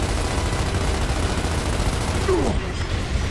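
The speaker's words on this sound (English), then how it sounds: "I don't know where these shots are coming from." Rapid fusillades of gunfire fill a battle in Gears of War Ultimate, loud and continuous throughout, with a distant boom near the end.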